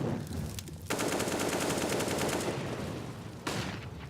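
Rapid automatic UMP fire on the Mirage map in Counter-Strike, a continuous burst of quick shots running for a couple of seconds, then a shorter burst, loud and close, with no talking.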